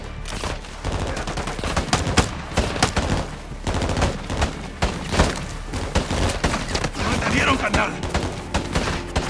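Dense gunfire in a Call of Duty Modern Warfare II firefight, rapid automatic bursts and scattered single shots cracking loudly and continuously, with shouted voices mixed in.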